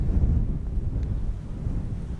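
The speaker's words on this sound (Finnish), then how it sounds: "On melko kova tämä tuuli täällä koko ajan ollut" Strong, steady wind roars across open autumn wilderness near Pöyrisjärvi, a loud, continuous low buffeting rumble against the microphone with no voices.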